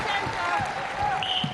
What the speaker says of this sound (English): Getting good applause from this crowd.